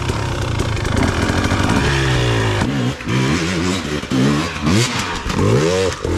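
A KTM XCW dirt bike ridden on single track, engine revving up and down in repeated throttle bursts with clattering, close and loud throughout.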